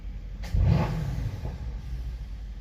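A warmed-up Mercedes C63 blips its engine once, a short rising rev that fades into a low idle rumble, heard quietly from nearby with no talk.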